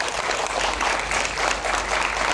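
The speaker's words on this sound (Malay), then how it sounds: "Berikan tepukan pada beliau." Audience clapping at a university seminar, a steady dense patter of many hands heard alone for a couple of seconds.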